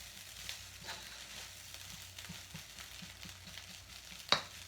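Vegetable fried rice sizzles quietly in a pan while being stirred, soft scraping strokes repeating at a steady rhythm over a faint frying hiss, ending in one sharper clack of the utensil.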